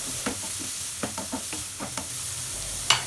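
Peas and mixed vegetables with salt, turmeric and chilli powder are stirred in a hot pan, giving a steady sizzle broken by a series of scraping stir strokes and a sharper clatter near the end.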